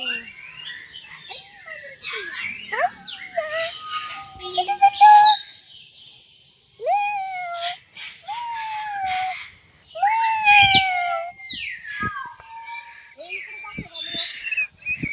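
Birds call loudly from dense bushes in farm fields, a series of sharp, repeated whistling chirps and rising-falling tweets in bursts, close and clear, while people talk in between.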